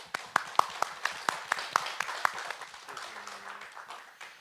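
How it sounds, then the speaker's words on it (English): A small lecture-hall audience claps after a public lecture, with distinct individual claps in a quick irregular rhythm that thin out and fade over a few seconds. "Let's give both of them another round of applause."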